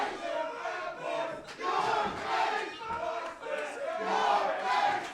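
Wrestling crowd at an indie show chanting in rhythmic waves, two sides trading a back-and-forth chant split between the wrestlers, loud and sustained with no talk over it.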